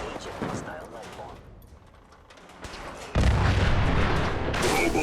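A mini nuke explosion in Fallout 4 erupts as a loud, deep boom that swells and holds to the end after a quieter rumbling stretch with gunfire-like cracks, while a voice talks at times.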